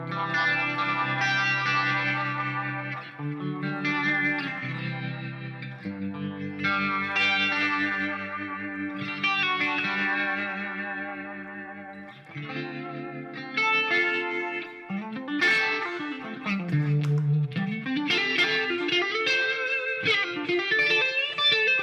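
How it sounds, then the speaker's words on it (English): Synthesizer chords and a melodic line played through chorus, echo and distortion effects, with sustained shimmering tones that shift in pitch and repeat with echoes; loud and continuous with no voices. "stuff like this works nice in a mix, some chorus and trim and maybe echo"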